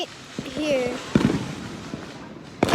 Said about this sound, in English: That's what we call fireworks